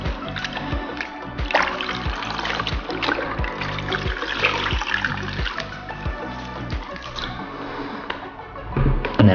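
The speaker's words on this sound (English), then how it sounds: "Just give that cloth a bit of a rinse out." A cloth is rinsed out in water during baseboard caulking and painting work, giving steady close splashing and trickling with a rhythmic slosh throughout.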